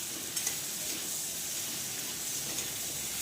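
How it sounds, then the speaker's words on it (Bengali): Prawns frying lightly in oil give a steady, close sizzling hiss that runs evenly throughout, with only faint stirring bumps and no voices. "চিংড়ি মাছটাকে জাস্ট হালকা করে ভেজে নেবো।"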